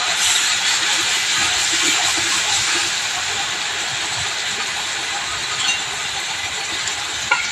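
A ground paste of onion, garlic, ginger, cumin and cardamom sizzles in hot oil, giving a close, steady, bright hiss with small crackles that continues without a break.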